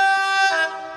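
A train passing through Crewe station sounds a short, loud, bright horn blast that drops in pitch and fades within a second.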